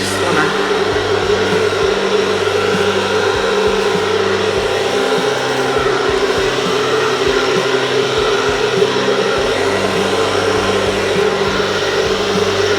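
A hair dryer blows over an acrylic paint pour, a loud, steady whooshing roar that runs without a break from start to end, close up, with no speech.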